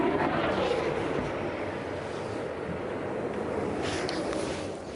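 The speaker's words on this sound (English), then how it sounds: "That sounded like a fighter jet overhead." A fighter jet roars overhead in Kyiv during the Russian invasion, a loud, broad, sustained rumble that fades slightly toward the end, with wind noise mixed in.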